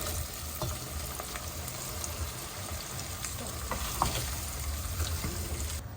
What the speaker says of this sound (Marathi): तर हा कांदा आता 15 ते 20 मिनिट थोडा लालसर होईपर्यंत छान तेलामध्येच परतून घ्यायचं.